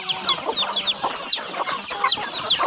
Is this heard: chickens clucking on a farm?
yes